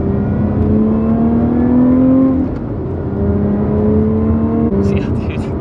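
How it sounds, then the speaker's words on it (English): A 2021 Lotus Evora GT with a Camry-derived engine accelerates on the road, its loud droning engine note climbing steadily through the revs, broken by gear changes partway through. "I think this is such a good sounding car."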